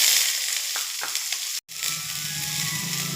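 Small onions hiss and crackle in hot oil with popped mustard seeds and dried red chillies, a steady close sizzle broken by one brief cut-out.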